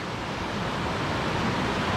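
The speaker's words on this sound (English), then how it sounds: "The way it's flowing down there, the water's moving so quick." Fast-flowing water rushes in a wild Scottish landscape, a loud continuous broadband roar with steady intensity and no voices.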